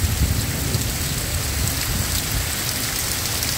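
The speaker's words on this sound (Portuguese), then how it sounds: "Muita chuva." Heavy, steady rain in the Brazilian sertão pours down in a dense, continuous hiss, loud and close, with a low rumbling undertone throughout.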